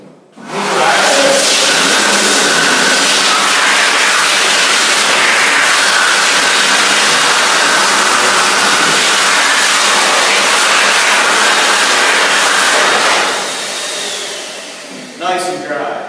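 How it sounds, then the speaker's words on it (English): Electric hand air dryer blasting as hands are dried, a loud steady whooshing roar that starts abruptly and runs for about thirteen seconds before winding down, followed by a few faint rustles. "We go to the air dryer."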